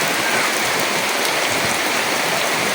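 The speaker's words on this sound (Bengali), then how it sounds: "দেখেন কত বৃষ্টি পড়তেছে অনেক বৃষ্টি পড়তেছে আজকে" Heavy rain falls in a village setting as a dense, loud, unbroken roar of drops on surfaces, constant and close without pause or voices.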